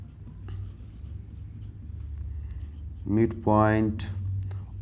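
Marker or chalk writing on a board during a math lesson, giving soft scratchy strokes beneath a voice explaining the problem.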